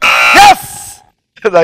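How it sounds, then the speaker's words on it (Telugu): Quiz show buzzer pressed on a studio game show, one short harsh electronic tone over a sharp voice, followed by a moment of quiet and then talking. "బజర్ నొక్కేసావు"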